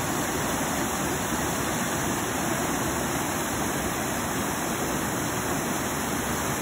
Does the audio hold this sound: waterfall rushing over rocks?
yes